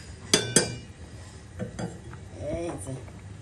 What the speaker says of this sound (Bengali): ঢাকনাটা উঠে